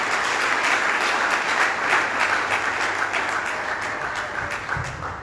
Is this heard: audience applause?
yes